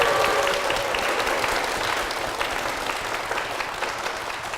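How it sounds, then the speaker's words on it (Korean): A church congregation applauds for the pastor and Eden Church, a dense, steady roar of many hands clapping at once that fades slightly toward the end. "목사님과 교회를 위해서 다시 한번 큰 박수 부탁드리겠습니다"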